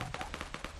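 Rapid bursts of gunfire in the video game Fortnite, about eight sharp shots in under a second, fairly close and evenly spaced, with no talking.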